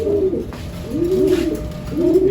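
Pigeons in a loft give low, rolling coos in a steady repeating pattern, loud and close, with a faint background hum.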